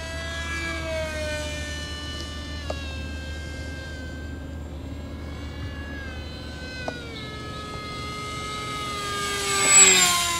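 An electric RC model airplane with a 6x4 inch prop on a 3S 1350 mAh LiPo pack drones steadily in flight, its motor whine holding a high pitch, then swelling louder as it passes close near the end.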